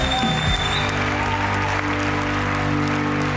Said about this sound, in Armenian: Եկեք բարձր ծափարենք եւ շնորհավորենք